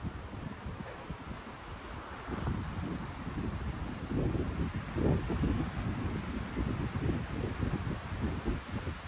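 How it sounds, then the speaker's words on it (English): Strong, steady wind buffets a hiking ridge on the Border Route Trail in the Boundary Waters, roaring in broadband gusts and rumbling against the microphone for the whole stretch, with no voices. "I don't know if you can hear it, but it is super windy."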